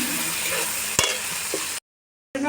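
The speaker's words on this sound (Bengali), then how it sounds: "এই যে পেঁয়াজ যেটা নরম নরম ভাজা হয়েছে" Soft chopped onion frying in oil with spices, a steady close sizzle with a sharp clink near one second, then a brief cut to silence before the sizzle returns.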